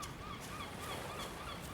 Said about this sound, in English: Oh, I like the seagull noises.